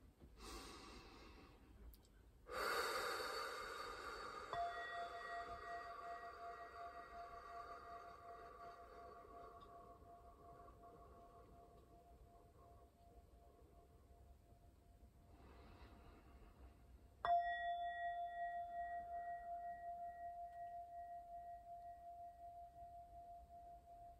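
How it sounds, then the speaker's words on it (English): A sound bowl struck twice, each strike leaving a long, sustained shimmering tone that slowly fades, soft and close in a quiet room with faint breathing. "All right, 20 seconds of the sound bowl."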